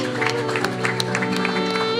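A church congregation applauds during a worship service, a steady wash of claps held under sustained music and voices, moderately loud and filling the whole moment.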